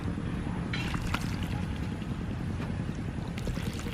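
A farm water pump pushes irrigation water for vegetable crops, giving a steady loud low rumble and splashing churn close by, with occasional brief hissing bursts on top.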